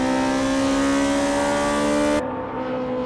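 Toyota AE86 Hachi-Roku race cars screaming past on the Tsukuba circuit during an N2 race, a loud steady high-revving engine drone with strong harmonics that cuts off abruptly near the end as the sound drops away.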